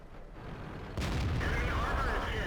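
A single tank gun shot from an AMX CDC French medium tank in World of Tanks booms at mid distance, followed by a lingering rumble and faint ringing.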